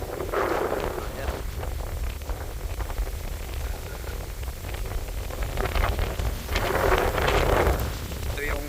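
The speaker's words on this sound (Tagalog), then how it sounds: "Lakas ng hangin." Strong wind gusts on a mountain road to Camp 44 in Bukidnon roar across the microphone in loud, rushing waves that swell and ease, with a faint voice in the background.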